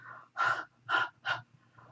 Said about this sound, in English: pardon my loud breathing here.